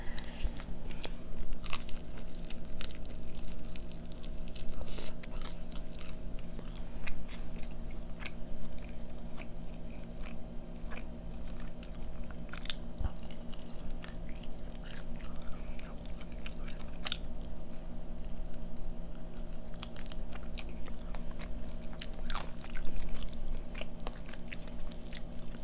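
Fried onion rings are bitten and chewed up close during a mukbang eating show. Loud, steady crunching continues throughout, broken by repeated sharp bites.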